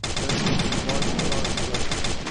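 Rapid automatic gunfire from the Free Fire battle royale game plays as a dense, continuous burst of even, close shots for the full length of the sound.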